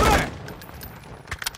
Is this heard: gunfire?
yes